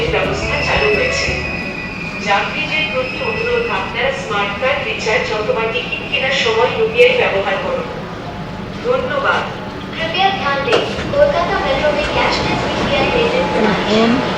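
Howrah underwater metro train at the station with its doors opening on both sides. A busy platform rumble sits under nearby talking voices, with occasional clacks and thumps.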